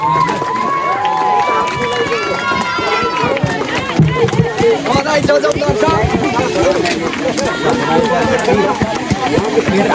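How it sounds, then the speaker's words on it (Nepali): At a village fair prize ceremony in Nepal, the audience claps loudly amid lively crowd noise and children shouting, with a loud voice talking over the applause throughout. "सम्पूर्णले ताली बजाइदिनु होला"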